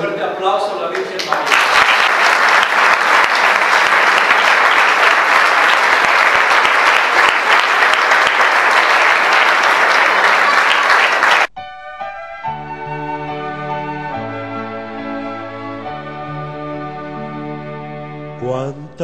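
Strong applause erupts for an image of the Virgin de la Soledad at a religious gathering, loud continuous clapping for about ten seconds that cuts off abruptly as music begins.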